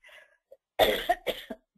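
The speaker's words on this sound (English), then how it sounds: "Sorry, I do have a cough" A couple of harsh, close coughs in quick succession, preceded by a faint breathy sound, in a quiet room.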